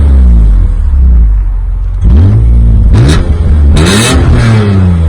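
A high-mileage BMW E46 M3 with SMG gearbox idles loudly up close, then its engine is blipped through several sharp revs, each rising and falling quickly, with no talking over it.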